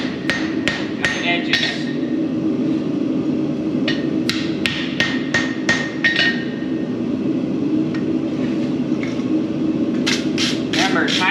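Hammer blows on hot steel from a gas forge, forging post vise mounting hardware: bursts of ringing metallic strikes in quick runs with pauses, close and loud, with a brief spoken word.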